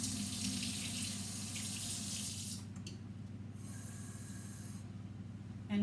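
A kitchen tap runs cold water into a cup, a steady broadband rush that cuts off partway through, leaving a quieter background hum.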